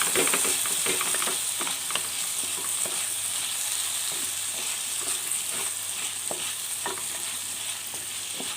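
Tomatoes are stirred into a frying beef pepper curry, with a steady close sizzle throughout and scattered clinks and scrapes of a spoon against the pan.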